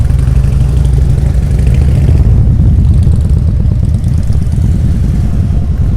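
Loud, steady engine rumble of motorcycles passing along Main Street in Hot Springs, North Carolina, a throaty low drone that persists throughout with a slight shift midway.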